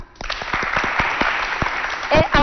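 Audience applause for a jury member at a televised Chadian school competition, a burst of distinct claps that thickens into steady clapping for about two seconds, with voices near the end.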